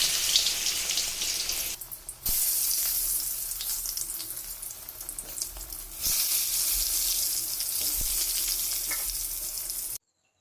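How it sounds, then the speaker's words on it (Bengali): Eggplant fries in hot oil in a wok, a steady bright sizzle throughout with occasional louder bursts and light stirring clatter, no voices. "এখন ভাজার জন্য কড়াতে তেল বসিয়ে দিয়েছি, এখানে বেগুনটা ফার্স্ট করে নেব"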